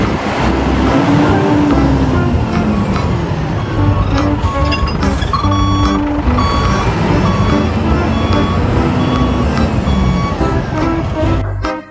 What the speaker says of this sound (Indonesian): di sini ada mobil truk molen besar